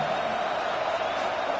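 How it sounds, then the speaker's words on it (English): A college football stadium crowd in the video game NCAA 26 gives a dense, steady roar that holds at an even level throughout. "listen to this crowd noise. This stadium is vibrating."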